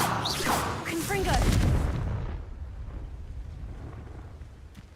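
A Confringo fire spell bursts in the game Hogwarts Legacy, a loud whooshing blast that swells for about two seconds then fades into a low rumble, with a voice calling out over the start.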